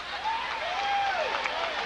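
A sellout crowd roars and cheers inside an indoor soccer arena in Houston, a broad buzzing swell of noise with what sounds like a whistle or horn rising and falling above it.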